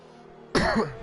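A single sharp cough or throat clear from a man with a cold, close to the microphone and loud, rising out of quiet background hum partway through.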